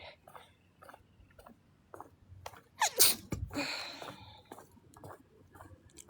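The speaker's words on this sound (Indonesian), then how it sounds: "pengen bersin." A single sharp human sneeze, loud and close, bursting out mid-clip amid quiet clicks and rustling, with brief murmurs around it.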